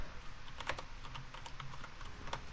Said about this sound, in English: Clicking on my keyboard.